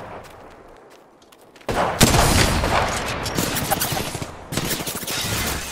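Video game gunfire: after a quieter opening, dense bursts of rapid shots erupt loud and close, keep going in a sustained barrage, pause briefly, then resume with more rapid fire.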